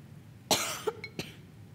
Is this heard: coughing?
yes